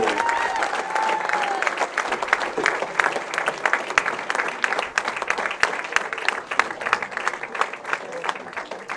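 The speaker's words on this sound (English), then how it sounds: "Let's keep that round of applause going for our second place finisher" Steady crowd applause fills a bowling center after the Junior Gold U18 stepladder finals, a dense patter of many hands, moderately loud, with a faint announcer voice at the start.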